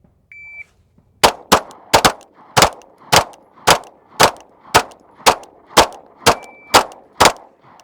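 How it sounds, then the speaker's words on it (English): A handgun rapidly fires a dozen rounds at targets in a timed drill, loud close cracks about half a second apart, preceded by a short electronic start beep; no speech. "we only have a half a second to fire each one of those 12 rounds."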